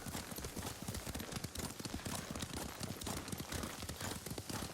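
Horse hooves gallop in a steady rapid clip-clop rhythm in Ghost of Tsushima, close and continuous throughout, without speech.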